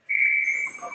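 A referee's whistle at an ice hockey game gives one loud, sharp, sustained blast of under a second, followed by faint arena noise.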